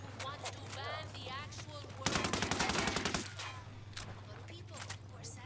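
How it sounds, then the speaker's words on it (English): Rapid bursts of automatic gunfire in Ghost Recon crackle in a dense volley lasting about a second, with scattered single shots before and after and someone talking around them. "Someone shooting at me? Who the fuck's shooting?"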